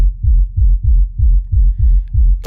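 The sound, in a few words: techno kick with rumbling sub bass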